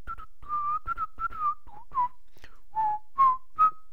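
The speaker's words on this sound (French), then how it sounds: "je sais pas si ça donne bien de siffler dans le casque" A person whistles a short, choppy melody into a headset microphone during a Minecraft session, a string of clear, close, separate notes with brief gaps between them and no talking.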